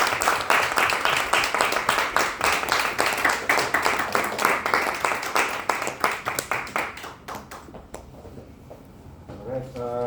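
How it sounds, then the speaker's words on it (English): A Toastmasters meeting audience applauds the Toastmaster with dense, steady clapping that carries on for several seconds and then fades out near the end. "Could we give another applause to Toastmaster Hakim Arifin?"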